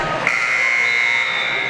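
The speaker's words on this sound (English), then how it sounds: "that buzzer is hopefully not too loud for you as it was loud for me in my ear" A loud, sustained electronic buzzer blares from a basketball scoreboard, starting abruptly and holding a harsh tone for over a second.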